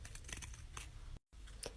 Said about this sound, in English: You can use scissors or an X-Acto knife.